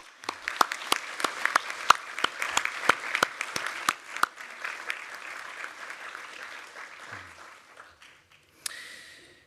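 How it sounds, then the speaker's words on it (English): Graduation audience at a Bond University law ceremony applauding a retiring professor, crisp individual claps up front that thin into a softer, fading patter before a brief voice near the end. "So perhaps he deserves a good round of applause."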